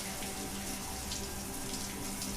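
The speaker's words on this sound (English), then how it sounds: "Is that a shower?" In the video game Heavy Rain, a shower runs with a constant, fairly soft hiss of spraying water that holds evenly from start to finish.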